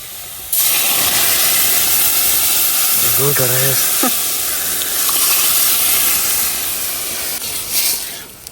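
Steady broadband hiss of lentils sizzling in hot oil with fried onion and garlic, loud and continuous throughout, with a brief voice partway through.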